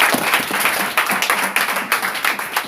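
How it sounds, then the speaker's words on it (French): An audience at a gathering claps for a woman being honored, with uneven, somewhat sparse hand claps in irregular bursts rather than a full dense roar. "applaudissons pour notre sœur alors."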